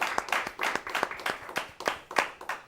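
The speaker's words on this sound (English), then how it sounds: "And a round of applause for the city here" A small nearby audience claps, several sharp irregular hand claps about every quarter second, close and moderately loud, with no talking.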